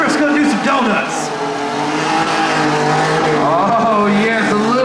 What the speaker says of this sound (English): Oh, Woodruff's gonna do some donuts.